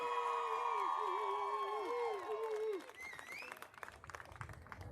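Crowd at an intermediate central region tournament opening ceremony cheering, whooping and applauding loudly, with high shouts sliding over the noise before it breaks into scattered clapping.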